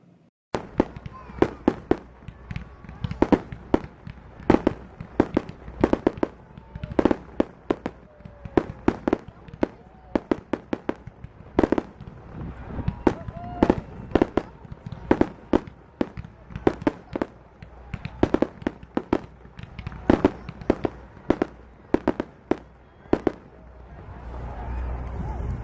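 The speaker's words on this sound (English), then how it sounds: "we sign off with the grand finale fireworks from the 2013 Heritage Fair" Grand finale fireworks at the 2013 Heritage Fair fire in a dense, rapid barrage of sharp booms and crackling bursts, loud and sustained, with overlapping explosions packed closely over about 25 seconds.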